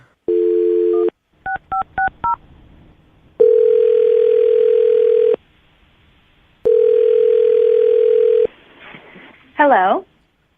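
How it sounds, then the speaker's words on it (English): A telephone line plays a dial tone, then a quick run of keypad dialing tones, followed by two long ringback tones of an outgoing call, with a brief warbling chirp near the end. "All right, you ready to make the phone call?"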